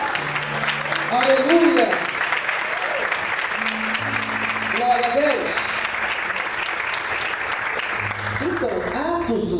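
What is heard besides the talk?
church congregation applauding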